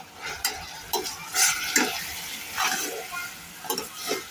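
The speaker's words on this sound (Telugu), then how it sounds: "ఇప్పుడు ఇలా యాడ్ చేసినాక ఒకసారి కలుపుకుందాం." A blended tomato and coconut paste being stirred into a hot cooking pot for a palav, with soft sizzling under a series of close, rhythmic spoon scrapes and swishes, roughly one every half second, and no talking.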